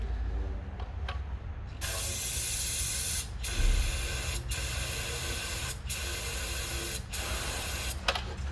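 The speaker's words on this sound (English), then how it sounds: "we will spray some brake parts cleaner" Aerosol brake parts cleaner sprays down the throttle body of a 1970 Chevelle with an LS engine swap, in a steady, loud hiss broken by several brief pauses between bursts.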